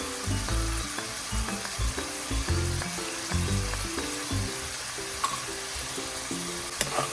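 Spring roll filling with oregano and chilli flakes sizzling in a pan, stirred in rhythmic bursts of scraping and tossing over a steady fry, with sharp spatula taps near the end.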